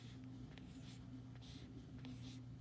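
Marker strokes on a board during a lesson on customary units of capacity, several short faint scratchy squeaks in quick bursts over a low steady hum, with no talk.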